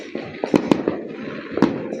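New Year fireworks and firecrackers going off, several sharp cracking bangs at irregular intervals over a steady crackling background, moderately distant, with no voices.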